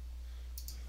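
A computer mouse clicks twice in quick succession, faint and close, over a low steady hum.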